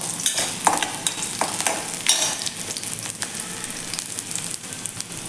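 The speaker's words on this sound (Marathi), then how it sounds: "आता हा लसूण भाजत असताना यामध्ये आपल्याला खोबरं देखील भाजून घ्यायचं आहे" Garlic cloves and dried coconut roasting in a pan over medium heat, with repeated dry stirring scrapes and soft crackling, close and uneven in rhythm.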